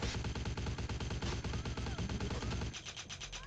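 SMG gunfire from the video game Vampire: The Masquerade – Bloodlines, loud rapid automatic bursts that rattle continuously before breaking into a few slower, spaced shots at the end.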